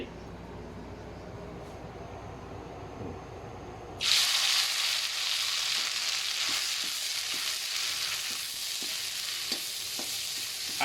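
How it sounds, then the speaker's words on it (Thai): Thai red curry paste stir-fried in a little hot oil for a northern Thai frog dish; a quiet kitchen background gives way to a sudden loud, steady sizzle at about four seconds, with faint scraping stirs through the rest. "ต่อไปก็เอาพริกแกงลงไปพัดเลย"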